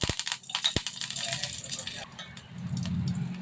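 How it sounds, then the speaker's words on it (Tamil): Mustard seeds spluttering in hot oil with sharp popping crackles, then curry leaves dropped in to a louder burst of sizzling, close and busy. "கடுகு பொரிஞ்சிச்சு. கருவேப்பிலை போட்டுக்கலாம்."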